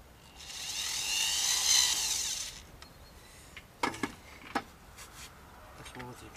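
A power screwdriver whirs for about two seconds, driving a self-tapping screw into a homemade plant fence, followed by sharp knocks and handling clatter, with a voice talking quietly nearby.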